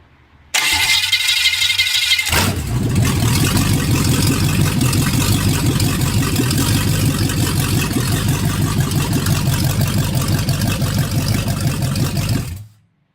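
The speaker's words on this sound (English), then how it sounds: "It's actually less strain because all the current is going to make the motor turn, and then once it's turning, then you flip the ignition." A car engine on an engine stand: a brief starter whir, then the engine catches and runs at a loud, steady idle with even low chugging for about ten seconds before cutting off abruptly.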